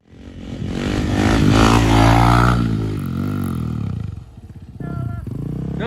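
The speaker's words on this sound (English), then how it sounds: "We have a sports bike." Sports bike motorcycle engine roaring loudly nearby, a sustained heavy rumble that swells and then eases before rising again, with no talking.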